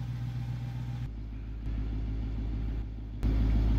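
Dodge Challenger SRT Demon 170 engine idling, a deep steady throbbing rumble up close that shifts level a few times and grows louder at the end.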